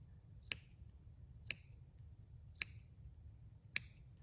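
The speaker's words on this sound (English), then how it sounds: "trim up all your yarn ends so that they're about the same length" Scissors snip through yarn ends on a finished mosaic crochet piece, four sharp isolated clicks spaced about a second apart, close and quiet over a low background hum.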